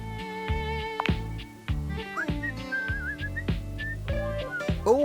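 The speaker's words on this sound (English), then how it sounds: "He's whistling when you walk up on him" A character in the Date Everything video game whistles a wandering, bouncy tune over a busy musical backing with plucked notes, the whistled melody clear and fairly prominent throughout.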